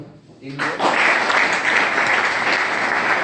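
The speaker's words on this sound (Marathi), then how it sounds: "तुम्ही पण स्वतःसाठी एकदा टाळ्या वाजवा सर्व" Webinar audience clapping together, a dense burst of applause starting after a brief pause and holding steady and loud for about three seconds, close and continuous.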